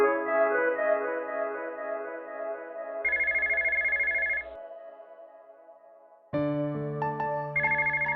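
A phone ringtone rings out alone in a repeating electronic melody, with short bursts of brighter high tones, a brief near-silent pause, then the tune starting up again just as loud.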